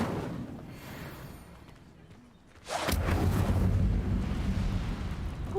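The Incendio fire spell in Hogwarts Legacy bursts into a sudden whooshing blast of flame, then a sustained roaring burn after a quieter lead-in.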